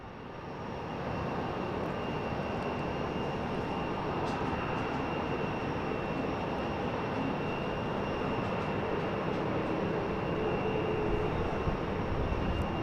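An airliner landing at Boston Logan International Airport makes a steady, loud jet-engine roar with a faint high whine. The drone holds nearly constant throughout, with no speech.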